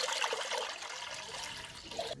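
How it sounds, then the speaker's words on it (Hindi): About 1.5 litres of water poured into a wok in a village kitchen, a steady splashing gush that is bright and moderately loud, with no voices over it. "पानी जो है वो डालेंगे कढ़ाई में।"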